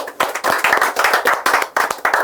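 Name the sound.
applause, clapping hands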